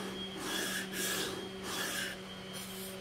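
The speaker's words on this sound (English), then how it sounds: "I'm going to put a chamfer here." A wooden pencil box edge is chamfered by hand, giving four soft rasping strokes in a steady back-and-forth rhythm, close and moderately quiet.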